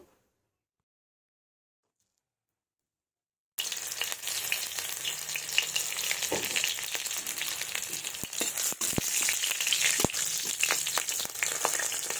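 Green chilies and five-spice seeds hit hot mustard oil in a kadai, giving a sudden loud, steady sizzle with crackling pops after a few seconds of silence, close and continuous to the end.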